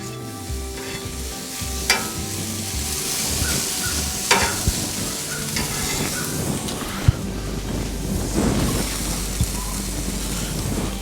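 Eggs frying on a hot griddle with a thin film of oil, a steady close sizzle running throughout, with a few sharp scrapes and clicks of a spatula over it.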